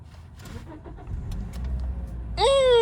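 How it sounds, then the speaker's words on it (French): Low mechanical rumble and light clatter, then an old manual-transmission car engine catches near the end and revs up, its pitch climbing as it roars. "On va un peu démarrer pour écouter le son du moteur."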